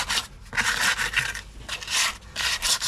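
Rough rubbing down of a Range Rover Evoque wheel during a tyre repair, repeated back-and-forth abrasive strokes in a steady rhythm, close and fairly loud, without speech.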